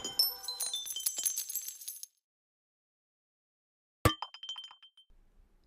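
Ore pickup effect from a Unity roll-a-ball game with FMOD sound design: a bright glassy clink with a tinkling, shimmering tail, then silence, then a second sharp metallic chime that rings out and decays. No talking.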